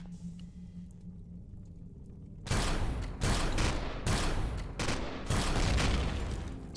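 Sentry turrets in Empyrion Galactic Survival open fire after a quiet stretch, loosing four loud, dense bursts of gunfire separated by brief gaps, close and harsh with no voices.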